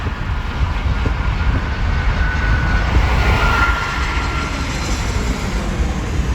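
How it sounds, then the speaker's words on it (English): A steady, broad engine roar hangs in the air, a plane droning overhead with a faint whine rising and easing in the middle. "You can hear the plane if you listen."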